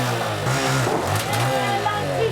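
A motorcycle engine revs steadily and loudly at close range, a continuous throaty drone with slight rises and dips in pitch.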